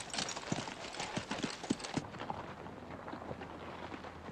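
Cavalry horses' hooves clop on the ground as troopers dismount and lead out in a western, several uneven near hoofbeats at first, then settling into softer distant shuffling.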